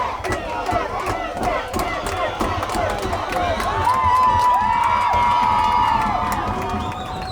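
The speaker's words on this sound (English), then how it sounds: "the crowd starts to get loud here" Crowd noise at a high school varsity football game, Woodlands at Rye Neck, rising steadily into a loud sustained roar with shouts and whistles over the second half, with no talk in the clip.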